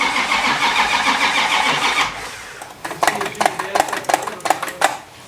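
A 1967 Dodge Coronet engine is cranked for about two seconds with a steady churning sound. It then catches in a series of sharp, uneven, sputtering bursts close by.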